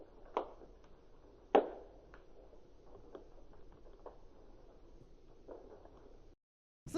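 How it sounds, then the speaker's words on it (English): Quiet textured background noise layer in the style of Burial's atmospheres: a low, soft bed of crackle and rumble dotted with scattered little clicks and taps, two louder snaps early on, then a brief gap of silence. "this is just like a simple background noise"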